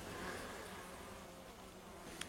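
Many honeybees buzz in a continuous, even drone, fairly soft, with one brief sharp sound near the end.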